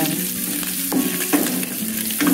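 Bacon frying in a little oil, a dense close sizzle and crackle with a couple of stirring scrapes, continuous and without voices.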